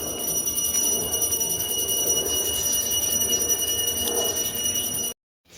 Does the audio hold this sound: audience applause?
no